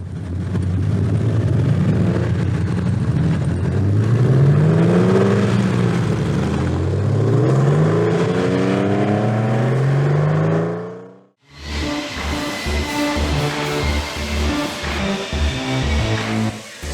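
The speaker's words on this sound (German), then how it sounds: "ich höre den bärigen Sound von dem Sechszylinder in Verbindung mit dem luftgekühlten Motor" A Porsche 964 air-cooled six-cylinder engine revs loudly and repeatedly, pitch sweeping up and down under heavy throttle, then cuts briefly before returning as a rough, pulsing idle.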